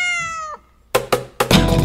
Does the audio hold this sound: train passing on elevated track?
no